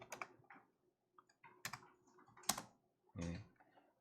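Computer keyboard key presses, including the Tab key, heard as a quiet, close sequence of separate clicks and taps spaced irregularly, with one heavier, longer press near the end.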